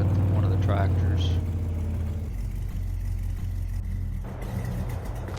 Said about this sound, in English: Go over here and we'll jump in one of the tractors.